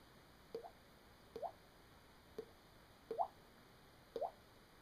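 A voice imitates a dripping faucet, making five quiet wet plops at roughly one-second intervals, close and alone with no talk.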